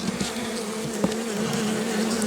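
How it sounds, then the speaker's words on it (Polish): Honeybees buzz steadily at an open hive during an inspection, a continuous close drone with a few brief louder passes, and no talk. "jakaś pszczoła z pyłkiem"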